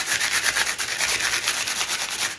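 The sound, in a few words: sandpaper scratching native plant seeds to scarify them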